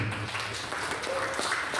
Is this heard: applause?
yes